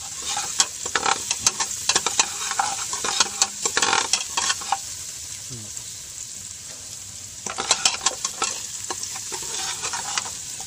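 Onions frying in a pan as the base for goat papaitan, a steady crackling sizzle with bursts of stirring scrapes, loud and close, fading briefly mid-clip before picking up again.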